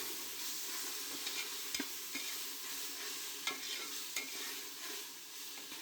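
Ground coriander and mint paste is stirred into frying masala for nati-style chicken biryani, a soft steady sizzle broken by occasional spoon taps and scrapes against the pan, close and without voices.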